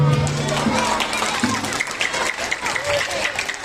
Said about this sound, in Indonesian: Tepuk tangan dong buat ceritanya.